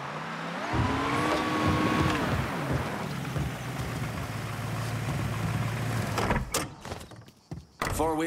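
A vehicle engine out in a bayou warms up with a rising whine, settles into a steady rumbling idle and revs, then cuts off abruptly with a few clunks at the end.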